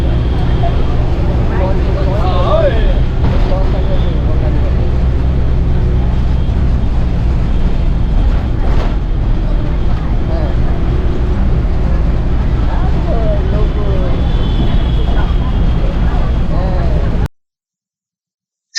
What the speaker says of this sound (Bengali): সকালবেলা গিয়ে পৌঁছেছিলাম হাওড়া রেলওয়ে স্টেশন